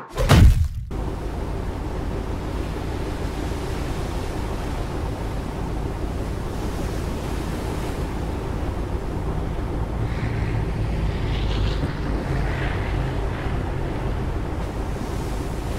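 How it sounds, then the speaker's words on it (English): Ambience from the video game LEGO Batman: waves break and wash against rocks in a steady, loud, continuous surf roar with gusty low rumble, a sharp hit at the very start, and faint tonal sweeps later. "This ambience mainly consists of waves hitting the rocks, but it also has few occasional airplanes flying by"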